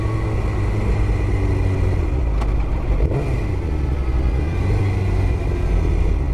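A car on a quick ride to the store, with a steady, loud low rumble of engine and road noise that continues unbroken with no talking.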